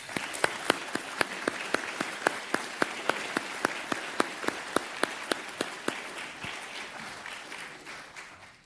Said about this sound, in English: let's give a round of applause to our panelists.